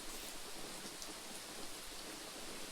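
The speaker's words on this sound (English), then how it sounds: "now it was really pouring" Heavy rain pours in Raging Loop, a dense, even hiss of downpour that stays steady and loud for the whole few seconds with no voices.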